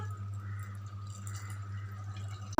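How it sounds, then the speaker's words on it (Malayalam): Faint pouring and dripping of jaggery syrup under a steady low hum, a quiet trickle running throughout. "നമ്മുടെ ശർക്കര പാനി ഒഴിക്കാം"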